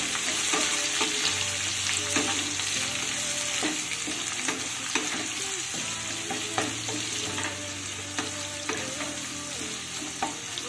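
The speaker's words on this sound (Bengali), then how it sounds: "পেঁয়াজটাকে একটু ভেজে নেব যতক্ষণ না পেঁয়াজটা একটু নরম হয়ে যায়" Two medium chopped onions frying in a pan for restaurant-style palak chicken, a steady close sizzle broken by regular scraping and clattering stirs throughout.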